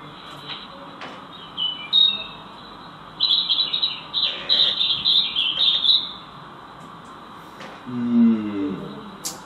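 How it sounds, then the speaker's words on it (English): A wild bird sings outdoors, a series of high chirping, twittering phrases in bursts, fairly close over a low background hum, with a few lower squawky calls near the end and no talk. "I'm not sure what sort of bird that is"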